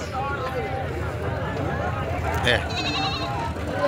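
A goat bleats at a crowded livestock market in Rajanpur district, a brief call rising over loud, continuous chatter from many people nearby.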